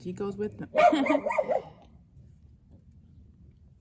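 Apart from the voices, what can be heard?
dog barking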